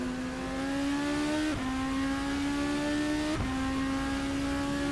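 RSS Supreme 2025 race car in Assetto Corsa, engine droning steadily loud at high revs, with two sharp dips as gears shift before the tone climbs again.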